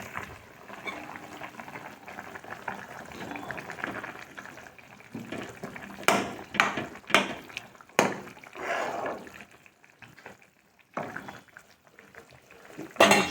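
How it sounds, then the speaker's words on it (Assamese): Water with turmeric bubbling at a boil in a cooking pot for an Assamese fish curry, a steady simmering hiss with a few brief clatters midway, fairly close and moderately loud, with no talking. "এয়া দেখিছে নহয় উতলি আছে এনেকৈ উতলি থাকিব দিব"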